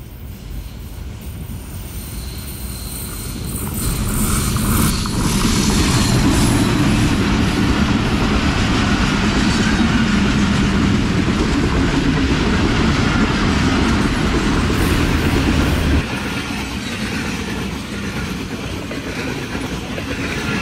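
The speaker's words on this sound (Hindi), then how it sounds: "हरीपुर बांध रेलवे स्टेशन से पास थ्रू करने लगी है 102 डाउन सुबह रफ्तार रेल कार" The 102 Down Subak Raftar railcar from Rawalpindi to Lahore, led by locomotive GU20 4561, passes through Haripur Band station in rain with a loud, sustained roar and clatter of wheels that swells, holds, then drops away.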